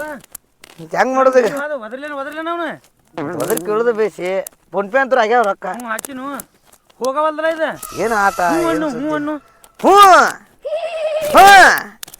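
A horse neighs in several loud, wavering bursts separated by brief pauses, and the last two calls are the strongest. Voices are heard alongside.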